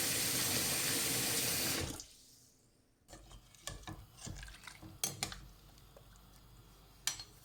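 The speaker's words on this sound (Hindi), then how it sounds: "यहाँ पे मैं चावल भिगो रही हूँ।" Tap water gushes loudly into a sink over rice being soaked for pulao, stopping after two seconds, followed by quiet clinks and scrapes of pots and utensils.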